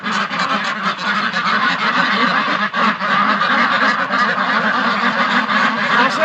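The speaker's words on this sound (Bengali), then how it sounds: "হাঁসগুলা ডাক দেখেন" A flock of white Pekin ducks quacks and honks loudly and continuously, many calls overlapping close by without a break.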